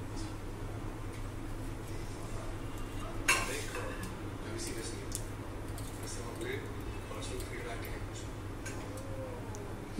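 Cloves and cardamom fry softly in a pan for soya pulao, with a faint sizzle, light utensil scraping and an occasional clink, under a voice talking.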